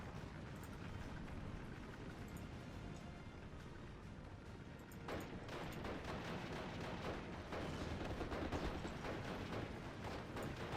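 Artillery fires during a World War II battle in Steel Division: Normandy 44, a faint rumbling barrage that turns into a thicker run of sharp blasts and cracks from about halfway through.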